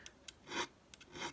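A hand file rasps across guitar fret metal in short, delicate strokes, several quiet scrapes at close range with brief pauses between them, no voices.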